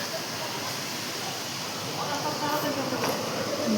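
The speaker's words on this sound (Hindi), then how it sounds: "देखो कितना भयंकर झरना है और बहुत तेज़ बहाव" A roaring waterfall at Sreevel Mahadev with a fast, powerful flow, heard as a loud, steady broadband rush filling the scene, with a faint voice in the background.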